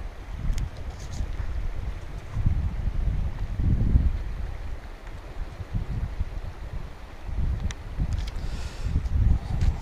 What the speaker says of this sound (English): And it is very windy out here today. Blowing all over the place.